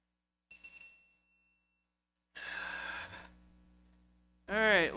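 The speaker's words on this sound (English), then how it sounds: "low battery on the torque wrench" Torque wrench sounding its low-battery alarm, a few sharp electronic beeps in a quiet garage, followed by a sigh and a brief vocal sound.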